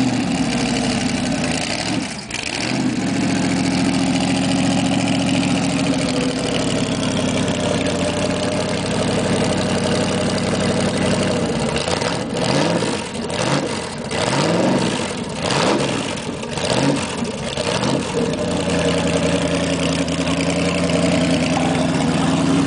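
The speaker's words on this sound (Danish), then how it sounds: "Det her, det er verdens fedeste motorcykel." A Boss Hoss 600 HP motorcycle engine idles with a steady heavy rumble, close and loud, then blips into several throttle revs toward the end with no talking.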